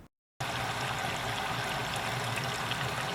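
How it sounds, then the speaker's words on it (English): A compact 18-inch dishwasher in a mobile home fills with water, a steady rushing trickle and pour that starts abruptly after a short silence and runs on evenly at close range. "it seems to be filling pretty good"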